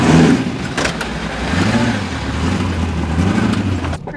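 An 830 HP Ford Bronco King of the Hammers off-road racer revs hard while driving, its engine note loud and close, rising and falling through several surges with no talk over it.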